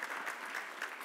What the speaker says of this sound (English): So we need to give them a round of applause.